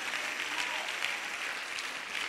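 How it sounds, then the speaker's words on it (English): A church congregation claps together in praise, a steady dense wash of many hands filling the sanctuary at moderate level with no pauses. "Why don't the church clap their hands and give God some praise in the house?"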